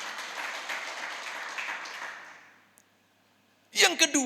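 A church congregation applauding during a worship service, the clapping a dense wash of hands that swells briefly and then fades into near silence before a voice resumes.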